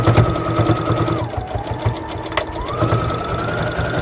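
A sewing machine runs a straight stitch at 2.5 length along a seam on a small fabric soap pouch, a loud, close, rapid needle chatter that holds steady with a brief change in pitch.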